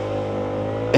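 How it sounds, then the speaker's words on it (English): Daytona Virtus 125 scooter engine idling with a steady hum that jumps into a sudden burst of throttle in the final instant as it starts pulling away, close and alone. "Starting the engine and getting off the line."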